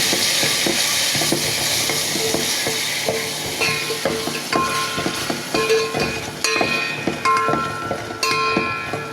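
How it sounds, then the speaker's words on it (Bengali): Pangas fish with chili paste and spices sizzles loudly in a pan while a spatula stirs it, with steady frying hiss and rhythmic clattering scrapes that grow sharper toward the end. No voices. "বাটা মরিচ আছে, সব কিছু দিয়ে দিলাম, নাড়াচাড়া করে নেব।"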